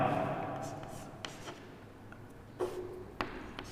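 Pen writing on paper during a physical education class lesson, with soft scratchy strokes and a few light taps, close and quiet under faint background noise.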